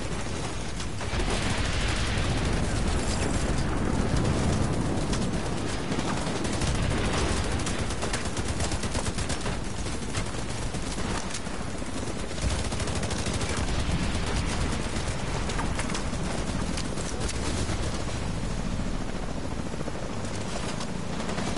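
Enemy turrets firing in the video game Warlords of New York, a steady loud barrage of rapid automatic gunfire and blasts that continues throughout with little letup.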